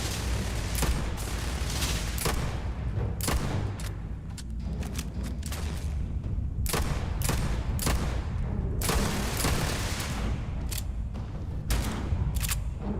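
Video game gunfire in Starfield, a dense run of sharp shots and bursts, some rapid, others spaced, close and loud over a constant low rumble, with no talking.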